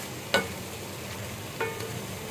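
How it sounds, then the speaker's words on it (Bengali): Rice for plain pulao fries in oil with spices, giving a faint, steady sizzle. Two brief clinks of a utensil against the pot stand out from it. "পোলার চালটাকে আমি ভাজা ভাজা করে ফেলব।"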